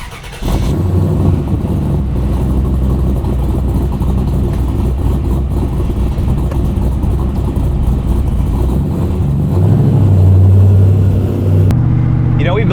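A 1957 Chevy Bel Air on a full chassis drives with its engine running steadily and loud throughout, rising into a heavier rev near the end before cutting off abruptly; voices talk faintly over the engine.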